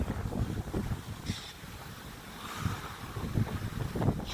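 Strong wind buffets a microphone at sea during a night fishing trip for flounder, a steady rough roar with gusty low-end thumps and occasional surges, loud and close, with no talking.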